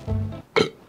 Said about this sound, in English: Hey guys, I can burp on demand.